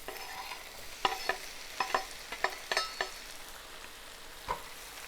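Tomatoes fry in a pan over raised heat, a quiet sizzle broken by several sharp scrapes and stirring knocks scattered through the moment, with no talking.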